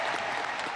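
A crowd at a Kamala Harris presidential campaign kickoff rally with running mate Tim Walz applauds loudly and continuously, a dense wash of clapping with no break.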